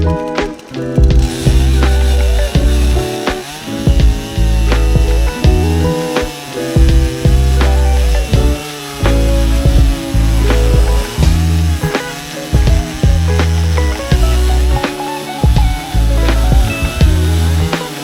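Sawmill milling wood, a loud, continuous machine drone with harmonics and a repeating pulse, running steadily throughout with no voices.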